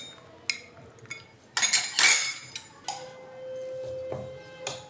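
Metal bowls clink as they are set one by one onto a metal plate while making a soft sponge cake, giving a few sharp, close clatters and rings over a quiet kitchen background.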